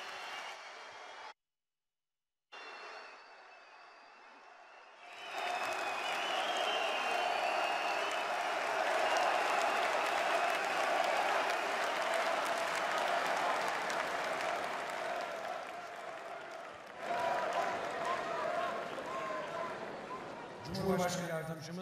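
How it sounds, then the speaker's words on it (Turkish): An audience at a political rally applauds and cheers in a long, loud, sustained wash of crowd noise after a brief quieter stretch with a short dropout, with voices and amplified sound mixed in toward the end. "Bir sağlam alkış alalım."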